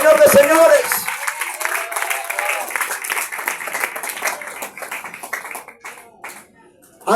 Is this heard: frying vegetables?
no